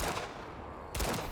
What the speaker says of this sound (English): Okay, I'm gonna try and shoot this guy and just see what happens.